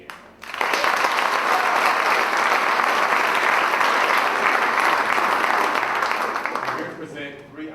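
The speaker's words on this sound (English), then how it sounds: "I just want to take a few seconds to clap for all of our student athletes" An audience at an honors convocation claps for student athletes, with steady, dense applause that starts abruptly, holds evenly for several seconds, then fades.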